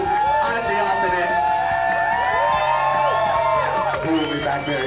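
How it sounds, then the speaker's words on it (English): Audience at a Deakin TV show cheering and whooping for performers, a loud crowd roar with shouts and babble filling the room, with some clapping mixed underneath. "Can I get a round of applause for all the wonderful performers tonight, including the amazing Archie Austin?"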